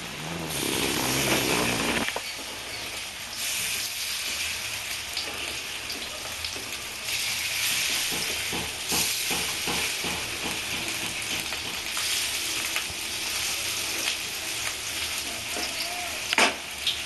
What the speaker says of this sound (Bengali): বড়া ভাজার সময় সবসময় একটু সিমে আছে ভাজবেন